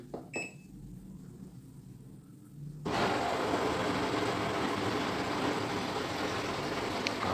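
A Fresh top-loading automatic washing machine starts after a faint beep and click, then a steady broadband rush of water filling the drum begins and continues evenly, fairly quiet and close.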